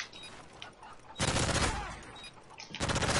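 Explosions of bombs landing in a Call of Duty Search and Destroy match on the Seatown map, two loud bursts of rumbling blasts, each lasting over a second, with no talk.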